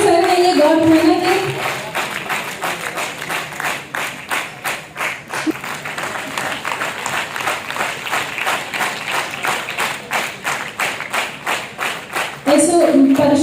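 Steady rhythmic clapping from an audience at a police traffic-month closing ceremony, sustained for several seconds, with a voice speaking over the PA at the start and end.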